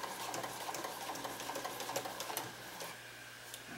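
Sewing machine stitching fabric for pajama bottoms, a steady close mechanical whir with a fine rapid needle rhythm running the whole time, alone without talk.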